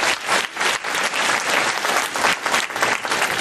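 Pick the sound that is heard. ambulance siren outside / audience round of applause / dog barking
audience round of applause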